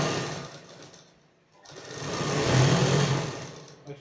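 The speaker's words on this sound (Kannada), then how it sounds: "ಇದನ್ನ ಒಂದು ಹೊಲಿಗೆ ಹಾಕೊಳ್ಳಿ" Sewing machine stitching a double-folded fold on a school shirt, a fast mechanical whir that fades out, pauses briefly, then runs again louder for a couple of seconds.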